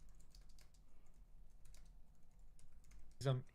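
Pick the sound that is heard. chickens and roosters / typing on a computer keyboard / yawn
typing on a computer keyboard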